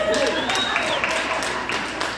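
Applause from an audience at a comedy night at an axe-throwing venue, a steady wash of clapping lasting the whole moment with no talk over it.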